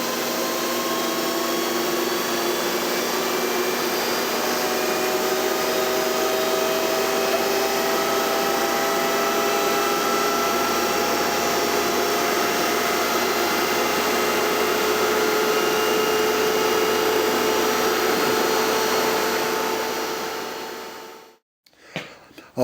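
A 1939 Dodge electric truck motor spins at about 2000 RPM, a steady whining hum with clear tonal lines that holds evenly for about twenty seconds, then cuts off abruptly near the end.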